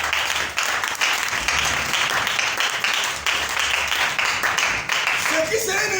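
A church congregation applauds the Lord during a French-language service; dense, steady clapping fills the room for the whole stretch, with a few voices mixed in.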